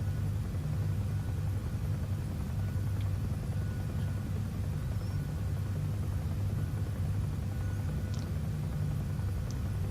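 A UN-liveried helicopter in the FSX flight simulator game gives a steady, unbroken low rotor and engine drone, even and loud throughout with no voices over it.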